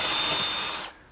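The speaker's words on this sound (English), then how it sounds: "I'm going to pull it out and pre-drill some holes for the screws" A power drill bores pilot holes for screws through the back of a cabinet, giving one steady high whine for under a second before cutting off abruptly.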